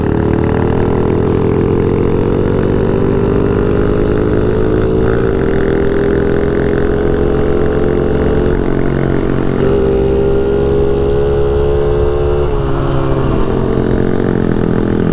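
A Tao dirt bike engine drones loudly and continuously while riding, its pitch rising and falling with the throttle as it revs, heard up close from behind throughout.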